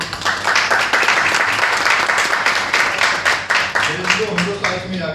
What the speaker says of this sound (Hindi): खुदावंद के नाम के लिए जोरदार तालियां।